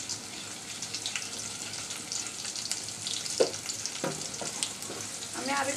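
Dried fish (shutki) and onions fry in a pan with a close, continuous sizzle and crackle, broken by a few stirring scrapes against the pan, no talk.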